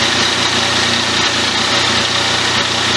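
A Yamaha MT-09 Tracer motorcycle engine idles steadily with a constant, loud, buzzing drone and no breaks or throttle changes, heard close up with no voices.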